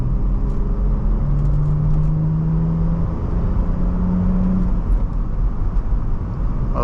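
A car engine pulls steadily at partial throttle up a hill, a constant droning hum with a faint rising whine, heard from inside the cabin without talk.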